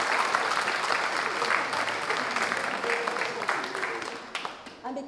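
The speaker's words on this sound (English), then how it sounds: "Shall we give them a round of applause?" A church congregation applauds newly baptized children during a combined morning service, a steady wash of many hands clapping that tapers off near the end, with voices faintly audible underneath.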